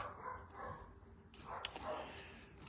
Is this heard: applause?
no